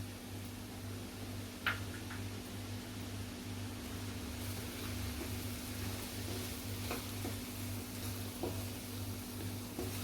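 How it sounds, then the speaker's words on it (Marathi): Semolina roasting in melted ghee for mango sheera gives a steady, low, even sizzle, with a couple of faint scrape or stir clicks and a constant low hum under it. "आपला तर रवा भाजून घेऊया आपण तुपामध्ये"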